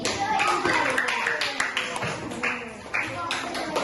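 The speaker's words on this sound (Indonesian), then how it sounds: "tepuk tangan dulu" Classroom clapping for a student group, a short run of hand claps mixed with children's chatter and voices close by.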